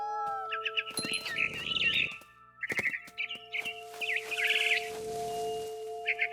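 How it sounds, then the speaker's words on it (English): A barn swallow chirps in the game What Remains of Edith Finch, with bursts of quick high twittering calls against a faint steady tonal background, close and clear with no talk. "Then I heard chirping outside my window. It was a barn swallow going back to her nest."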